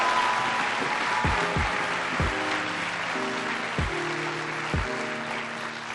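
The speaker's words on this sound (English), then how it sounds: "Give your teachers a big round of applause" A school audience applauds its teachers in a dense, steady round of clapping, with soft lo-fi music chords and thumping beats playing underneath.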